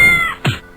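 A cat meows in the video game Kitten Cannon, one loud, clear meow that drops in pitch, followed by a short, lower second note.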